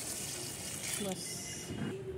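Water poured into plant pots in a rooftop garden at night, a steady, close splashing wash that runs throughout, with a brief spoken word near the end.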